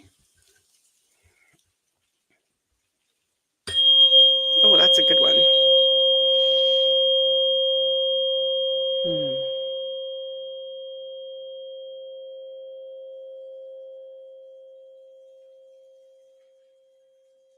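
A tuning fork is struck once and rings with a clear, steady pure tone that lingers and slowly fades over many seconds, with a voice briefly speaking over the start of the ring.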